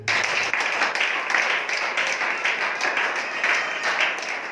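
A crowd at an evangelisation meeting applauds to acclaim the Lord, a dense, steady wash of many hands clapping that holds unbroken for several seconds at moderate loudness.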